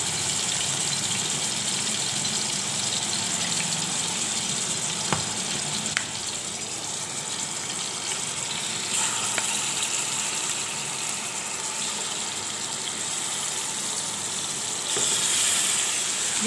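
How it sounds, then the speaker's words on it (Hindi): Marinated chicken frying in a pan of cooking oil gives a loud, steady sizzle that runs unbroken from start to finish, with no voices over it. "ये सारा चिकन डाल के हम अच्छी तरह से इसको फ्राई करेंगे"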